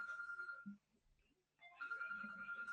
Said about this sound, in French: J'ai un coup de fil.